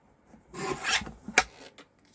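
Paper cardstock being cut to size for a handmade card, a single raspy scraping stroke about a second long followed by a short sharp snip, close and quiet with no talking.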